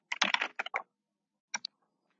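Computer keyboard keys clack in a quick burst of typing, then pause before two more isolated keystrokes, close and clear in a quiet room.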